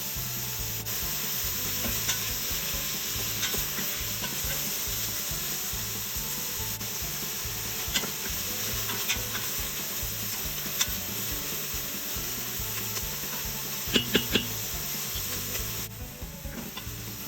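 Onions are stirred and sautéed in an Instant Pot for Texas chili, a spoon scraping in a steady repeating rhythm over a soft continuous sizzle, close and alone, with a few sharper clinks near the end.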